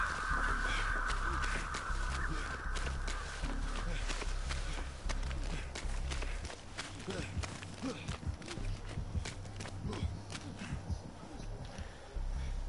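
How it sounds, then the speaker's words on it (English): Crows caw in a swamp area of the video game Dead by Daylight, with harsh calls in bursts alongside running footsteps and other game sounds, while a player talks over it. "those crows that you heard, the killer hears that no matter where he is on the map"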